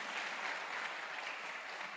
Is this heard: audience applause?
yes